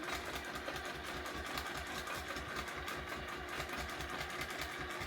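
A domestic sewing machine runs steadily during free motion quilting, a quiet continuous rapid needle chatter with a low motor hum, close by and uninterrupted.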